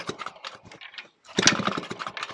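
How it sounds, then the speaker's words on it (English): An old, long-abandoned Yamaha motorcycle engine sputters and fires in uneven bursts of rough, rapid chugging, with a short pause before it catches again more strongly. "See, it's firing."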